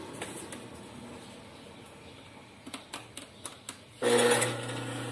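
A coil winding machine winding a jet ski stator gives a few light clicks and taps, then its motor switches on abruptly near the end with a loud, steady whirring hum.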